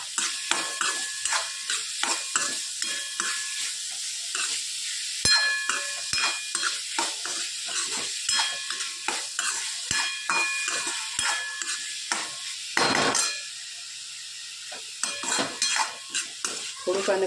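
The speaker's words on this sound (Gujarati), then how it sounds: "બધું સરસ આપણે શેકી લઈએ." Sauce with tomato ketchup sautés in a pan, a soft sizzle broken by frequent sharp spoon clinks and scrapes against the pan in an irregular rhythm, close and alone.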